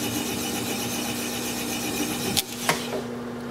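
A wood lathe running steadily with a gouge cutting into a thin natural edge bowl, a constant close mechanical whir with a couple of sharp knocks near the end as the tool breaks through.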